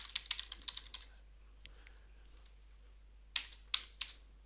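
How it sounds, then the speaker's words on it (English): Quick bursts of typing on a computer keyboard, a rapid run of clicks at the start, a near-silent pause with a couple of isolated taps, then another short flurry of keystrokes, close and fairly quiet. "typing out the full name,"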